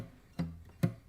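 Two short, heavily muted guitar strums in a boom-chick pattern, dull percussive thumps with almost no ringing notes, played at a live guitar workshop.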